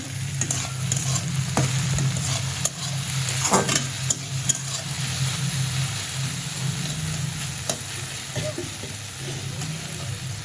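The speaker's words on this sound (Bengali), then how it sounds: "এখানে ভেন্ডি ভাজি করতেছি" Okra fries in a pan with a continuous crackling sizzle, punctuated by scraping clicks of stirring and a low hum of a stove or fan underneath.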